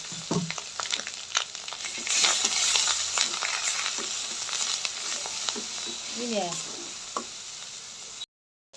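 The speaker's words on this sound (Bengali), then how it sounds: "অল্প একটু জল দিয়ে দেবো। মশলাটা ভালো করে কষানোর জন্য।" Spice paste of turmeric and chili sizzles and spits in a pan after a splash of water while being stirred for a prawn malai curry, with a loud continuous fry and scraping stirs before it cuts out abruptly.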